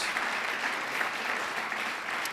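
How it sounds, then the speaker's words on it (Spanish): A church audience claps for the Lord in a brief, steady burst of dense applause. "dale un aplauso al Señor"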